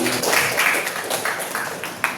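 Students in a vocational high school classroom clap together for a classmate, a dense scattered patter of hands lasting a couple of seconds at moderate loudness, close by and steady, fading slightly toward the end.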